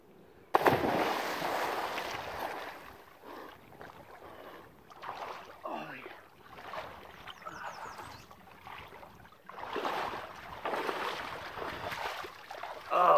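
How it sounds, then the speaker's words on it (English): A person plunges into cold open water for the first plunge of the year, making a burst of splashing and churning water followed by continued sloshing and rough noise, near and fairly loud, with faint voice sounds. "My official first plunge of the year."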